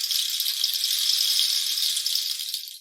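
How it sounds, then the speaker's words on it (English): A cactus rain stick is slowly turned so small pebbles cascade down inside it, giving a steady, close hiss of fine pattering like falling rain that tapers slightly at the end, with no voices. "these small elements cascade down, creating a sound of falling rain"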